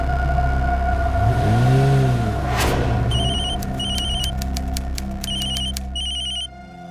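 A telephone rings in repeated bursts of bright electronic trills over a steady background hum, after a short passing engine rev and a thud; no talking is heard.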